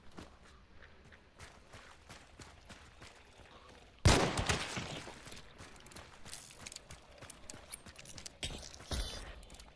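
Gunfire in the video game Hunt: Showdown, a sudden loud shot followed by scattered bursts and clatter over quiet rustling footsteps, the shooting sounding fairly distant and sporadic.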